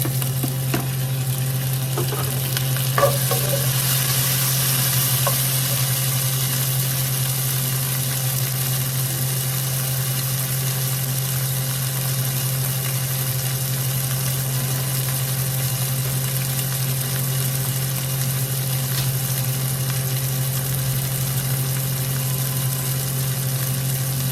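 Tomatoes and garlic fry in a pan and get stirred, giving a steady, close, even sizzle over a low constant hum, with a few faint scraping touches early on.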